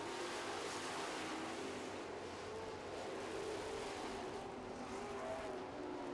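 Super trucks racing around an oval track in a feature race, their engines a continuous loud roar throughout, with no break or talk over it.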